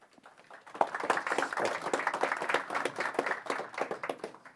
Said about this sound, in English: An applause before the questions.